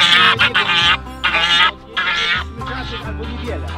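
Runner ducks and other farm ducks quack and honk in a busy chorus of repeated nasal calls, close and fairly loud, with the calls coming in uneven bursts.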